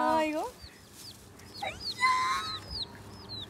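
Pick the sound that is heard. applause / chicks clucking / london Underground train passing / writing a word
chicks clucking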